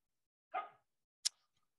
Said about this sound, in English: she seems to love barking on my podcast review records now